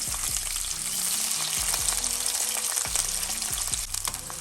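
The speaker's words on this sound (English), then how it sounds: "Next, add your oil, your peppers and onions." Peppers and onions fry in oil in a skillet with a steady, close sizzle, broken by a few soft clicks and stirring knocks.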